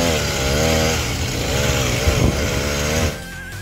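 A homemade motorized chopper bicycle's small engine runs steadily and loudly up close with a buzzing, harmonic drone that wavers slightly in pitch, then eases down near the end.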